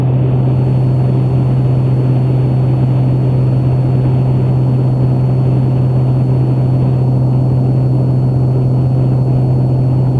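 A Piper Comanche 250 light airplane's piston engine and propeller drone steadily and loudly while the aircraft picks up airspeed, a constant tonal hum with broad rumbling noise throughout and no voices.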